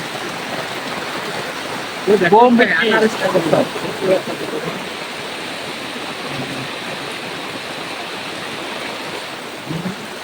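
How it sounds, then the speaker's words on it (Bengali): Heavy rain falls in a steady, dense roar outdoors on a street near a market, with a person talking loudly over it for a couple of seconds before the downpour continues alone. "বৃষ্টি হয়েছে ফাটাফাটি"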